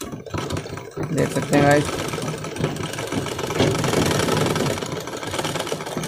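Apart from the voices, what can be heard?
umbrella sewing machine stitching, skipping stitches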